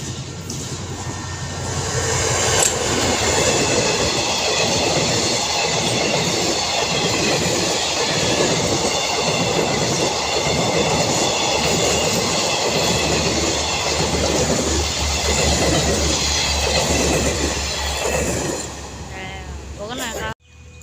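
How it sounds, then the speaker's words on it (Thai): Thai passenger train 251 rolling into Photharam station, a loud continuous rumble of wheels with rhythmic clickety-clack over rail joints and squealing brakes, close by, with someone talking over it. "เขาจอด สถานี โพธารามครับ มาแล้ว ขบวน 251 ครับ"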